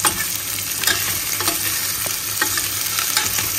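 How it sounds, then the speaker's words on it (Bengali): Potatoes and onion fry in mustard oil with a steady sizzle, broken by repeated scraping and clinking of a spatula stirring the pan, close and without talk. "আলুটা একটু বেশি ভাজতে হবে, সেই কারণে পেঁয়াজের সাথে আলুটা ভাজা হয়ে যাবে। সরষের তেলের মধ্যেই করছি এটা"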